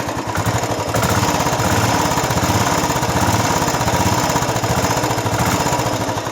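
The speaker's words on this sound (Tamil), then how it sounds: "இப்போ வந்து நம்ம எக்ஸாஸ்ட் பைக் சத்தத்தை கேட்போம்." A Royal Enfield Classic 350 BS4 motorcycle's 350cc single-cylinder engine and exhaust run close by, giving a loud, steady thumping idle with an even, rapid pulse and no speech over it.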